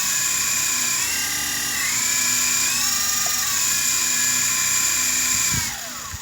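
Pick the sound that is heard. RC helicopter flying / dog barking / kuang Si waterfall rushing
RC helicopter flying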